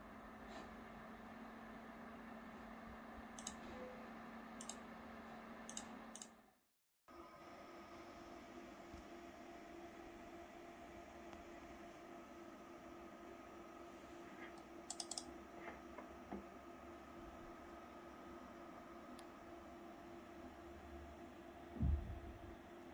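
A steady, low hum of PC system fans in a SilverStone MILO 12 slim ITX case drones on, faint and constant, with a few small clicks and taps near the end.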